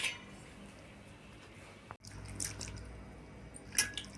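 Cold water poured over boiled cauliflower in a cooking pot, heard as a faint splash and trickle after a brief silence, with light drips and a soft clink near the end.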